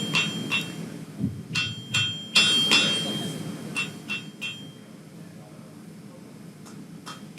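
A hammer forges a metal taper to a point at a blacksmith hammer-in, with bright, ringing strikes in small irregular clusters over a murmuring crowd and room noise.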